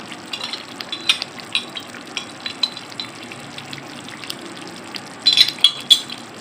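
Minced meat keema frying in oil with lemon juice being added, a soft steady sizzle broken by light clinks of a utensil stirring, with a brief louder splattering burst near the end.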